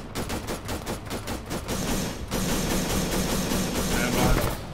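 Arma 3 game combat with a frag grenade and gunfire: a rapid burst of sharp repeated shots at the start, then a broad sustained blast-like roar with crackling continuing to the end, loud and close.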